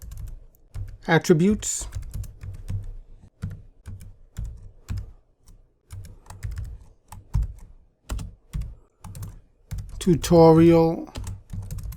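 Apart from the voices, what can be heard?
typing on a computer keyboard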